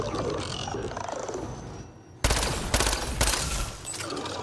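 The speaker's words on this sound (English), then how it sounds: "Not the best gun, the pistol for this." Pistol fire in Mass Effect Andromeda, starting after a quieter stretch of game ambience with a sudden loud burst of several close shots in quick succession, then sharp reports over continuing combat noise.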